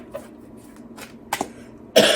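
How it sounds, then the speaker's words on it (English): A person gives a couple of short throat-clearing coughs and then one louder, harsher cough, close and alone against quiet room tone during a tarot reading. "Cough."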